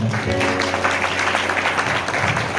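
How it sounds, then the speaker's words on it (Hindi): Congregation clapping during a Hindi Christian sermon, a dense burst of hand claps throughout, with a low voice briefly at the start. "ताली मार के बोले सुनाई"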